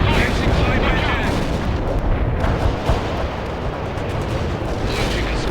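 Incoming artillery pounds the ground in World in Conflict, a loud, continuous barrage of overlapping blasts and crackling gunfire with a voice faintly present in the mix.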